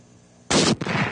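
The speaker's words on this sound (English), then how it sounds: "But now let's try the 7 Mag, a heavy bullet with a big powder charge behind it." A single loud 7mm Magnum rifle shot firing a heavy bullet outdoors, a sharp blast followed by a rolling echo.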